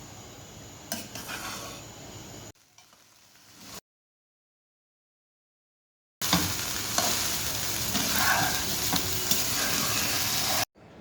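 Half-boiled polao rice is stirred in a hot frying pan for a mixed fried rice, giving a steady sizzle with scraping utensil strokes and a full silent gap in the middle.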